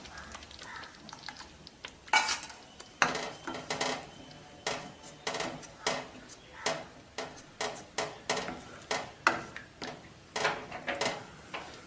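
A spoon stirs buttermilk into mor kuzhambu in a pot, giving repeated clinks and scrapes of metal against the pot in an uneven rhythm that grows steadier, close and fairly clear.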